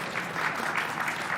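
Sparse applause from a small scattered audience at an NBA Legends Awards show, a steady light patter of clapping with no voices over it.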